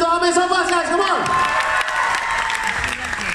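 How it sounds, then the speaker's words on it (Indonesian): An audience applauds and cheers for Amir Sofas, a dense, loud wash of clapping with voices whooping over it, fading slightly as it continues. "Kita beri tepukan untuk Amir Sofas, guys"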